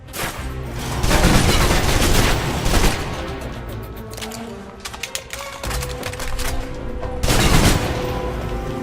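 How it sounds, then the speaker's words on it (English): Submachine guns fire in the video game Alpha Protocol: loud, close bursts of rapid automatic shots in several volleys, dense rattling fire with brief lulls between bursts. "If you're trapped in close quarters with multiple opponents, the SMGs can help clear the room quickly."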